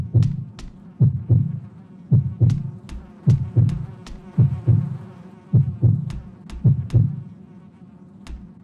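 Eerie buzzing in the horror game Shin Yomawari comes as pulsing, throbbing low bursts in an uneven rhythm, loud and close, with sharp clicks scattered between them.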